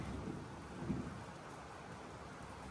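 Steady heavy rain pours down with a low rumble of thunder underneath, faint and distant, with no voices.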